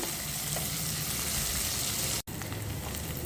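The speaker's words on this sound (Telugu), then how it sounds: "ఇది ఉల్లిపాయ కాస్తంత వేగాలి, మరీ ఎక్కువగా వేగిపోకూడదు." Steady, close sizzling of onions frying in hot oil, a dense crackling hiss with a brief cut partway through; no voices.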